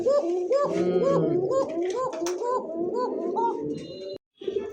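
A pigeon calls close up in a quick run of repeated coos, a steady rhythmic series lasting several seconds with a brief gap near the end, loud and clear, with some voice-like sound underneath.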